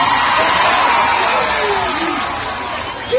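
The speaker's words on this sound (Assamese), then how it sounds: "এতিয়া কিন্তু আপোনালোকে এটা জোৰকে হাত চাপৰি বজাওক মোৰ কাৰণে" An audience at a KK and Mohan stage programme in North Guwahati claps and cheers, a loud, dense, continuous wash of crowd noise that holds steady and then eases slightly near the end.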